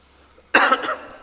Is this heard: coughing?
yes